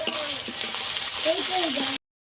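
Chopped medium-size onions fry in hot oil with a continuous, close hiss and sizzle, while a faint voice murmurs briefly underneath before everything cuts off abruptly.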